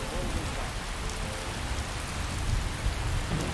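Steady rain pours down in the Skyrim game world, a dense continuous hiss on a surface with no break across the whole stretch, fairly loud and close.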